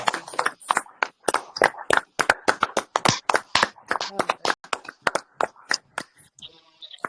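A Bible seminar audience breaks into loud, close, rapid applause, many hands clapping in dense uneven bursts that thin out toward the end, with a voice briefly heard over it.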